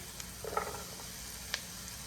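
Garlic and celery sizzle as they go into a hot pan for a lentil dish, a soft steady frying crackle with a few brief clinks and stirring sounds.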